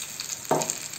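A battered green chili bajji dropped into hot oil, giving a sudden short burst of sizzling that quickly fades into a soft background hiss.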